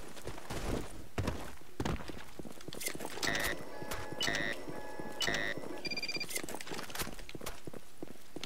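Quick, evenly spaced footsteps of a player character in the shooter game Blackshot, crisp and near, running throughout with brief tonal game beeps layered in the middle.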